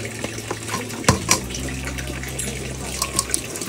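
Water runs from a tap as a child's plate is rinsed, with a steady splashing flow and a few clinks of the plate close by.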